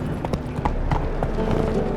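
Roach, a horse in The Witcher 3, gallops with a quick, steady run of hoof clip-clops over a constant game background, close and moderately loud for the full two seconds.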